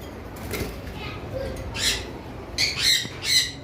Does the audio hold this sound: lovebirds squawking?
yes